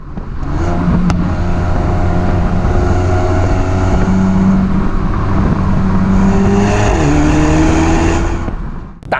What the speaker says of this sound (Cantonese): 就係死氣喉啊，直情大聲到咧，成架車都諧震到咧個 B 柱啊都啜咁嘅聲㗎